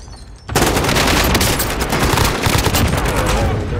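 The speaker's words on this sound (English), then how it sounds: "Be advised, friendly precision airstrike inbound." Precision airstrike explosions in a military shooter video game: after a brief quieter moment, a dense, loud barrage of rapid blasts and crackling booms erupts and continues without pause.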